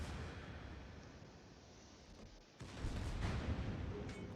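Heavy battleship shells slamming into a ship in World of Warships, a deep booming impact rumble that swells suddenly partway through, with no talk.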